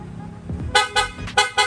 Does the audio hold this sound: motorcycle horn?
yes